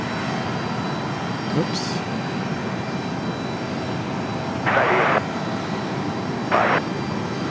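Airliner on approach to Raleigh-Durham International Airport, its engines a steady broad roar heard from a distance throughout, with a short spoken exclamation and a couple of brief bursts of noise over it.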